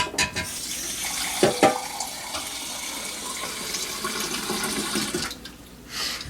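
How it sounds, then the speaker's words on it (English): Well water from a household tap runs into a rooting container, a steady close pour with a brief clatter near the start and a louder gush toward the end. "I'm just going to use water from my tap."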